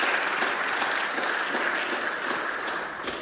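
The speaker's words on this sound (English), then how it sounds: "So we got applause for participation, I guess." Steady audience applause at a security forum panel in Kyiv, a dense even wash of clapping from a conference crowd that continues throughout at moderate level.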